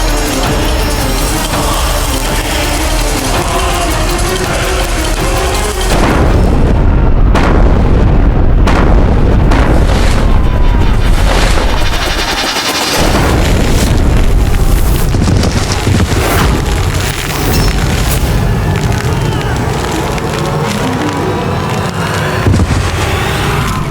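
Cannon fire and bursting shells in a battle against a Mughal army, a dense continuous roar of booms and blasts with sharp cracks and rumbling debris, loud throughout.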